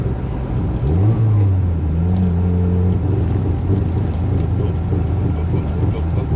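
A 1983 Lotus Turbo Esprit engine runs rough and uneven at close range, its tone wavering and dipping as it splutters; no voices sound over it.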